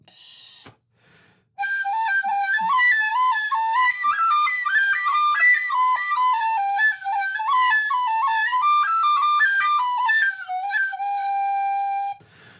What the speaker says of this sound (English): putting too much air through the whistle and it just breaks the octave all the time